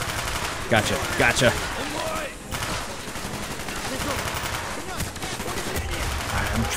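Rapid gunfire bursts in the video game Call of Duty Black Ops, sharp repeated shots over a busy background, with someone talking briefly in between.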